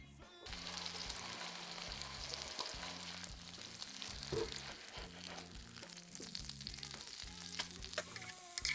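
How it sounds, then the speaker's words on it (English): A hake fillet fries in a pan over raised heat, with a soft, steady sizzle and faint crackles, fairly quiet with no speech. "And then just our fillet of hake. Just leave that, turn up the heat a little bit more, and let that cook for a bit."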